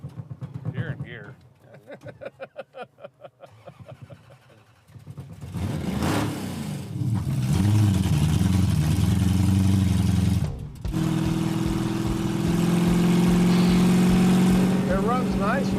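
A Coronet car engine idles roughly at first with people talking, then revs up loud and runs steadily with a strong low drone, briefly cutting out before picking up again.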